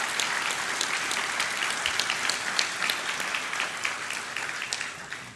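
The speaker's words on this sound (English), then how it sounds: "How about a round of applause for our special guests?" Audience applause fills a university convocation ceremony hall at Trent University Durham, a steady burst of many hands clapping for the full five seconds, dense and fairly close, with no talk over it.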